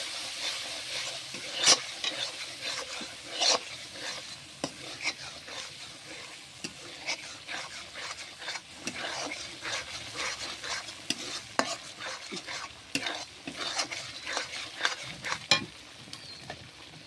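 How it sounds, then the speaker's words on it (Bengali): Prawns sizzle steadily in a hot pan as they are stirred, with frequent scraping clicks of the spoon against the metal over a continuous crackling fry, close and fairly loud, with no voices. "এখন চিংড়ি মাছটা দিয়ে দিলাম।"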